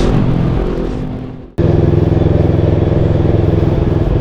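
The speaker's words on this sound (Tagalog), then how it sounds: "Pero ngayon pala nakamotor tayo, kaya takbo tayo ng motorcycle lane" A motorcycle rides in a motorcycle lane through Quezon City traffic, its engine loud and close with a steady throbbing drone that briefly drops off, then resumes strongly.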